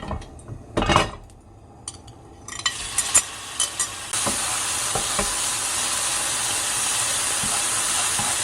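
Food stir-frying lightly in oil in a pan after seasoning with salt, opening with scattered clinks of utensil on pan and swelling into a steady, close sizzle.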